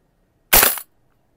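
A single sharp airsoft gun shot fired during a chronograph velocity test, loud and close, one brief crack that ends quickly in a quiet room.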